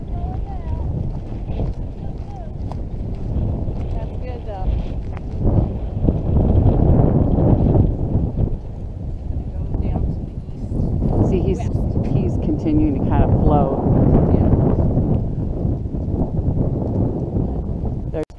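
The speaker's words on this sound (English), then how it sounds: "it's definitely the wind blowing it" Strong outdoor wind rumbles and buffets the microphone in continuous gusts along a track beside bushes, with voices talking over it.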